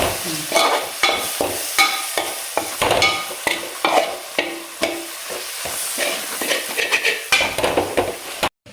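Spice powders sizzle and crackle in hot oil for a fish masala while a spoon scrapes and stirs the pan in quick, repeated strokes.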